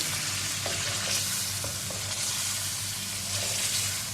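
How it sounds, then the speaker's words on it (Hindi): Yogurt being stirred into chicken korma masala frying in a pan gives a steady sizzle, with soft scraping strokes of a spoon repeating every half second or so through the four seconds, no talking. "अब इसमें हम दही शामिल कर देंगे तो मिक्स कर लें।"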